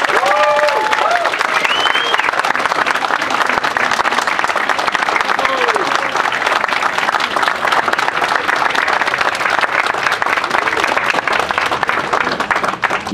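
A large convention panel audience gives sustained, loud applause for Nick Castle and Nancy Stephens, a dense wall of clapping with cheers and whoops rising over it and crowd voices mixed in throughout.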